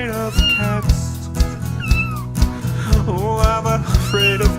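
A cat meows repeatedly up close, a series of loud, rising and falling cries with brief gaps between them.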